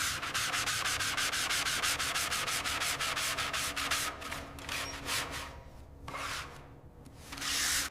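Steady, loud abrasive sanding on the bare metal of a 1957 Chevrolet Bel Air quarter panel, fast rhythmic scrubbing strokes that run continuously, then break into shorter, uneven passes with brief pauses, heard close with no talking.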